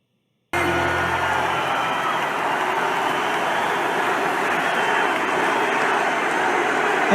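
A big crowd at a political rally makes a steady, dense roar that starts abruptly after a moment of silence and holds at a constant loud level throughout.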